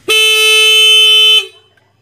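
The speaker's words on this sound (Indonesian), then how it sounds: "klakson dibunyikan" A single steady motorcycle horn blast, loud and close, holds a bright buzzy tone for over a second and then cuts off abruptly.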